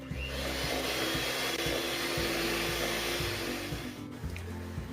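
An electric mixer beats buttercream icing made with icing sugar, a loud continuous motor whir with a rhythmic chugging pulse that runs steadily and dips briefly near the end.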